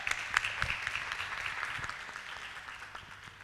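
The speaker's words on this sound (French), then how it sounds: "Très bien, alors on va s'applaudir." Applause from an audience of young people at a discussion session, a brief burst of clapping that is moderately distant and fades gradually over a few seconds.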